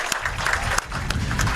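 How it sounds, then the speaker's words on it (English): Crowd applause at a high school football game as a former coach is welcomed back, dense clapping and cheering from the stands that holds steady throughout. "How about a round of applause? Let's welcome him back."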